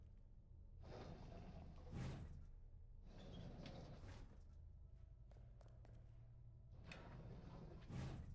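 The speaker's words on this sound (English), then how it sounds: "we're going to check all these slide out drawers to be safe" In Resident Evil 2, slide-out drawers open in turn: three or four rolling slides with sharp clacks, spaced a few seconds apart, faint and close, with small scattered clicks between them.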